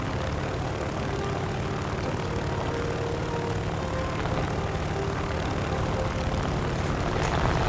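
Propeller airplane engine drone in a video game, a steady loud continuous hum with no breaks, slightly swelling toward the end.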